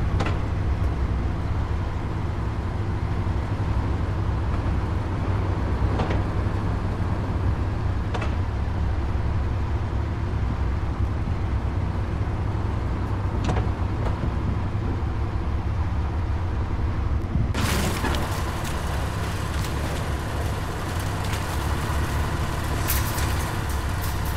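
A tank engine in the video game Hell Let Loose rumbles heavily and continuously while the armored vehicle reverses and turns in place. Near the end a brief hiss and clatter is heard.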